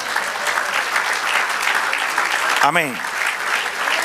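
A church congregation at a Spanish-language sermon breaks into loud, continuous applause for the Lord, with a single voice calling out briefly partway through.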